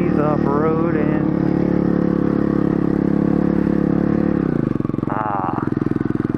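A mini moto motorcycle engine buzzes loud and close at high revs while doing wheelies off-road in a grassy field, then drops to a lower throb before briefly revving up again.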